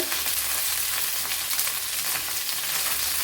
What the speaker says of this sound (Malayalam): ഇവിടെ ഇപ്പം കടുക് പൊട്ടിയിട്ടുണ്ട്